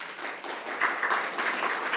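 Audience applause at the close of a talk on women astronomers, a steady patter of many hands clapping throughout, moderately close and dense with slight swells.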